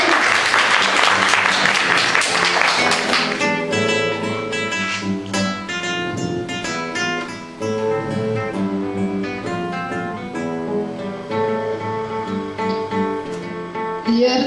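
Applause at a poetry and song evening on the Andalusian and Salentine Passion in Lecce, a broad burst of clapping over the first few seconds that fades under flamenco requiem music with guitar and sustained tones.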